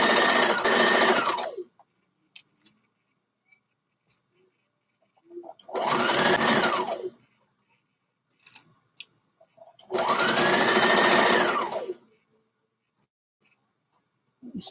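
Sewing machine stitching a half-inch sleeve seam from the underarm, with backstitching: three loud bursts of whirring stitching, about two seconds each, separated by quiet pauses with small clicks.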